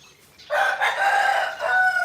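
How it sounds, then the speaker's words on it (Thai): A rooster crows once, loud and close, a long drawn-out call rising sharply after a brief quiet start. "โอ้ย เสียงไก่ขันอีก"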